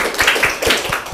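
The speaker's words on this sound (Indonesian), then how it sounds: "Tepuk tangan untuk yang tadi juga ya." Students in a classroom break into a brief, close burst of dense, overlapping hand claps that stays steady for about a second.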